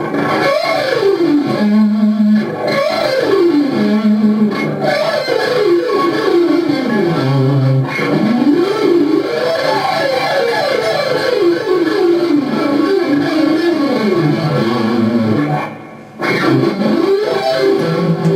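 Distorted electric guitar runs quickly up and down a scale with economy picking in a continuous fluid lick, loud and close, with a brief gap near the end.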